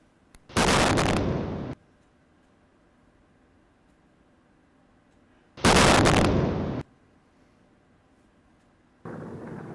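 Two loud, abrupt bursts from an Israeli military strike on a target in Lebanon, each roaring for about a second before cutting off, separated by several seconds of low background noise, with a third burst starting at the end.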